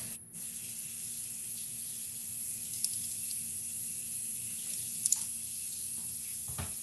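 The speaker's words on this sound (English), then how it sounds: "Are you taking a shower? No, that's my roommate." Steady hiss of shower water running in a nearby room, continuous and even throughout with a few faint clinks, no talking.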